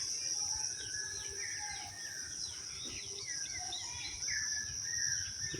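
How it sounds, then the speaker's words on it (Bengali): Morning birds calling from the trees overhead in a rural village at Muladi, Barishal, Bangladesh, a scatter of chirps and short whistled calls over a faint steady insect drone, fairly distant and soft. "উপরে পাখি চিল্লাতেছে।"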